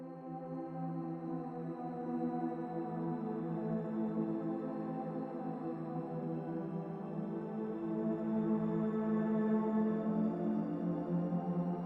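Spitfire Audio Albion V's SAML preset plays a soft, sustained chord of layered tones that swells gently and holds for several seconds with no talking.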